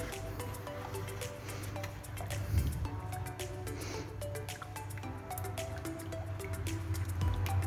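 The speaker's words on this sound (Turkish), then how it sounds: "yarım çay bardağı sütümü ekliyorum" Half a small tea glass of milk poured into a mixing bowl of dough mixture for homemade simit, giving soft liquid drips and squishy wet sounds against a low steady hum, with no talk.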